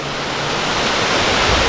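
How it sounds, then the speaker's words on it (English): A waterfall at Knott's Berry Farm on a hot day: a steady, close, full rush of falling water, loud and unbroken, with no other sounds over it. "A nice, refreshing waterfall."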